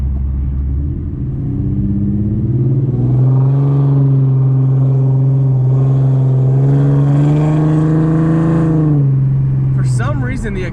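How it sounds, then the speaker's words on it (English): A car exhaust fitted with an idle chop mod revs up close by, its deep engine tone climbing, holding steady for several seconds, then dropping back, with a few sharp clicks at the end. "For some reason the exhaust sounds louder."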